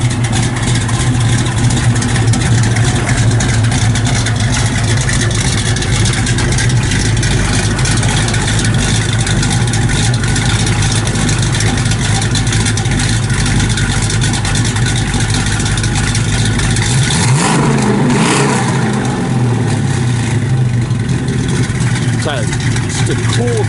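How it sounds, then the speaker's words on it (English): Engine of a 1964 Chevrolet Nova II hot rod idling with a deep, loud, steady rumble from the exhaust, then blipping briefly around the middle before settling again, with someone talking over it. "It's got a real stout running motor in it. Sounds really good out the back."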